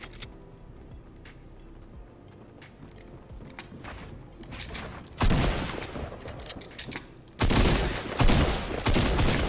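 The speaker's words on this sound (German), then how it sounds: "Und da hat gerade irgendeiner geschossen." Gunfire in a Fortnite match: scattered faint pops early, then two loud broadband bursts of shooting near the middle and end, with footsteps and ticking game sounds between them.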